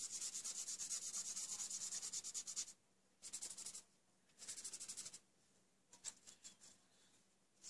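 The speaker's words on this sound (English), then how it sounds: "Using my finger as well, but don't rub too much because it can cause your papers to go bitty." A finger rubs colour onto paper card in quick, dry scratchy strokes, a long run of rubbing followed by shorter bursts with pauses between, close and soft.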